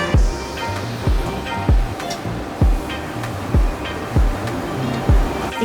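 A commercial fully automatic orange juice machine runs with a loud, regular thump about once a second over a continuous mechanical whir.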